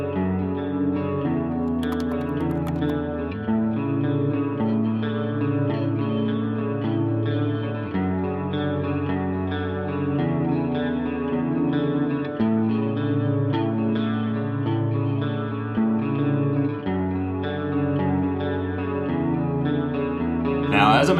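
Electric guitar fitted with Lambertones Blondies Telecaster pickups plays a steady, rhythmic chord pattern soaked in chorus and echo, loud and continuous throughout with no talking.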